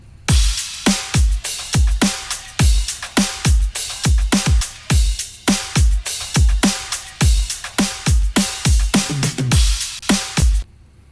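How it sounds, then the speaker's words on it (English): A glitch hop drum loop pounds out punchy kicks and snares with crash cymbals in a steady, grooving pattern, loud and dry with sharp transients. "So along with all the drums, sounds like this."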